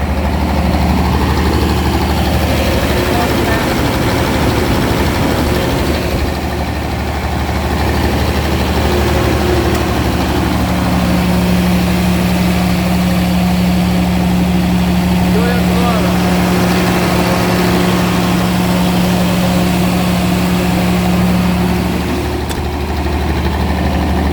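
A Scorpion 385 kVA generator from 2004 runs steadily close by, a loud continuous low diesel drone with a droning hum that holds level throughout and no talking.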